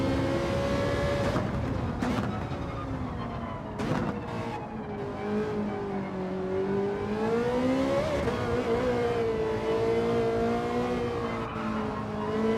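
Simulated Ferrari race car engine in Gran Turismo 7, droning steadily with rising and falling revs as it bumps over curbs and grass, loud and continuous with no talk.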